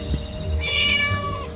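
Cat meowing in the game Scary Teacher, one drawn-out plaintive meow in the middle over faint background game sounds, clear and fairly close.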